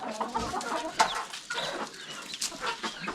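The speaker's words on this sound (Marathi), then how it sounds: "हा एक कोंबडा बघा कसा एकदम ब्रीडर" Rooster from a native village breeder flock in a Konkan poultry setup, clucking and calling in short irregular bursts, fairly close, with other fowl sounds around and no talk over it.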